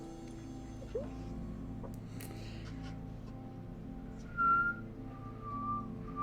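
A person whistles a few short, thin notes, faint and somewhat distant, over a quiet room hum with small ticks and clicks around them.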